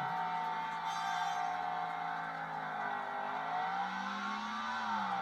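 A race car engine in the Hot Wheels World Race video game on the Highway 35 track drones loudly and steadily, its buzzing pitch dipping and then climbing again as the car drives on, with no voices.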